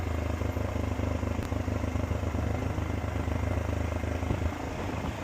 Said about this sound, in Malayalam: ഞാനിത് ആ ബൈക്കിൽ പൊക്കോണ്ടിരിക്കുകയാണ് കേട്ടോ.